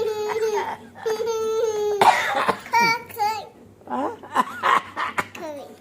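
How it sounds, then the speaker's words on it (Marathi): A child coughs several times in quick bursts, close and fairly loud, between bits of childish talk and laughter. "खोकला आला मला."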